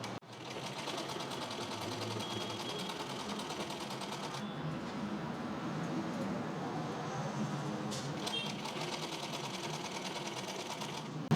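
A sewing machine runs a steady straight stitch, an even continuous mechanical whirr that carries on alone for about eleven seconds, close and moderately quiet.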